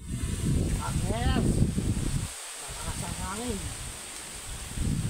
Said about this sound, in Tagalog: Malakas ang hangin ngayon dito ah.